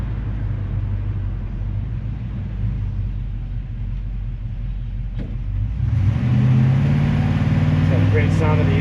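A 1958 GMC 100 restomod pickup rumbles steadily while driving, then its engine swells louder as it accelerates in the final seconds, heard from close by.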